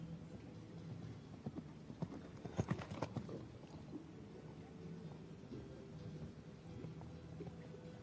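A horse canters on a para dressage championship arena surface, its hooves striking in a steady three-beat rhythm, moderately faint and continuous through the clip, with no talk over it.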